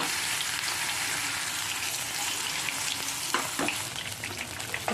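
Continuous sizzling of vegetable stalks frying in hot oil, with occasional stirring scrapes toward the end and no voices.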